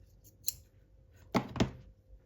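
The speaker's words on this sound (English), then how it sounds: "I can trim more fabric" Two sharp snips of scissors trimming upholstery fabric on a low-backed modern chair, close and crisp, with a lighter click before them.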